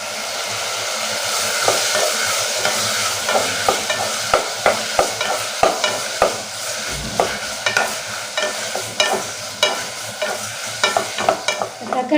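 Tomatoes with salt sauté in a pan, frying with a steady sizzle while a spoon scrapes and stirs in regular, sharp strokes, loud and close, with no talking.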